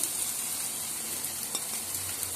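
Chilli, pepper, cumin, garam masala and turmeric powders sauté with onion, tomato and ginger-garlic in a pan, giving a close, even sizzle with faint stirring underneath.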